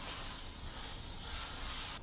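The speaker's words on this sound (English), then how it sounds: "you'll want to coat the pan with butter or spray" Cooking spray hisses steadily from a can onto a 9x13 baking pan, one continuous close burst lasting about two seconds before cutting off abruptly, with no voices.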